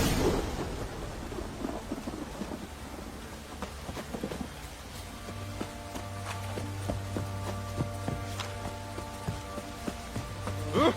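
Rain falls steadily through a thunderstorm, with rumbles of thunder and scattered heavy drops and thuds, while a low steady hum emerges partway through; no one speaks.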